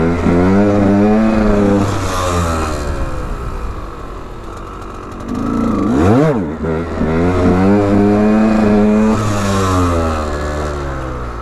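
A KTM EXC 125 two-stroke dirt bike warms up in first gear during wheelie practice. The engine revs up and down in repeated rising and falling sweeps, loud and close, with one sharp blip in the middle.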